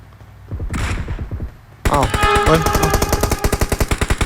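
Ambush gunfire in PUBG Mobile: after a quieter stretch with a burst of shots, rapid loud automatic fire erupts in a fast, sustained rattling stream, close and dominant.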